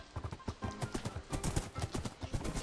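Rapid rhythmic clip-clop of horse hooves galloping in Minecraft, steady and fairly close, with a slightly synthetic game-audio quality and no talking.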